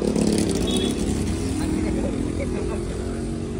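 A new motorcycle arrives with its rider, its engine a steady, fairly loud drone that eases off slightly as people talk nearby.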